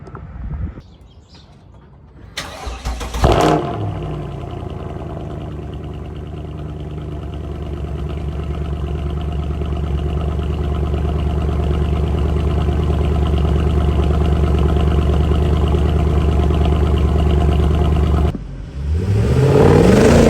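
A Mercedes car engine revs loud and raspy through a sustained pull, a steady, rising, throaty drone holding for about fifteen seconds before cutting off, with no voices.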